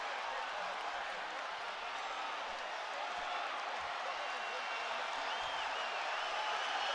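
Boxing arena crowd on its feet near the end of the Canelo Alvarez vs Gennady Golovkin fight, a dense, loud, steady roar of cheering with no gaps, sustained and rising slightly toward the close.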